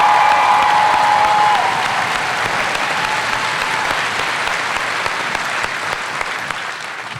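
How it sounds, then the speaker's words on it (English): A large crowd applauding at an army graduation at Fort Benning, loud sustained clapping that starts at full strength and slowly thins over seven seconds, heard outdoors. "Let's give these men a round of applause"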